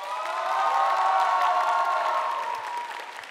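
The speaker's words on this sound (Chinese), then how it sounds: "请用掌声来告诉我" A studio audience at a 2015 Top Idol national finals singing contest cheers and applauds to vote for a contestant, a dense, steady wash of clapping and whoops swelling and then easing off over a few seconds.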